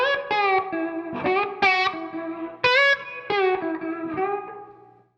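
Slide guitar lick, a run of short gliding notes with bright sustained tones, played alone at moderate loudness and trailing off.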